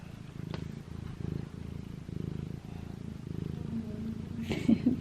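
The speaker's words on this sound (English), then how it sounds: "This is Georgie, my cat." A house cat purrs close up in a quiet room, a soft, rhythmic rumble pulsing about twice a second with each breath, steady and alone until a brief small sound at the end.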